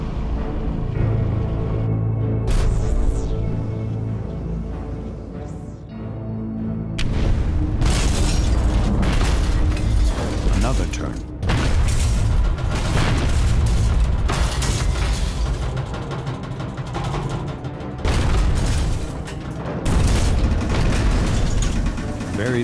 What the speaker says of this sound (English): Very little separates the crew from the explosions outside.